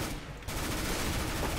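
Sustained automatic gunfire in a CS:GO match, a dense, loud rattle of rapid shots that thickens after a brief opening burst and continues unbroken to the end, with no voices.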